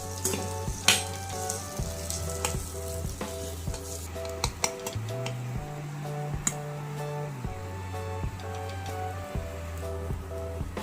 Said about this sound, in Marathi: वाटणाला छान तेल सुटेपर्यंत परतून घ्या।